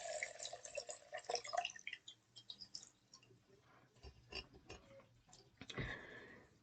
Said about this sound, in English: let it sit there and drip and drip and drip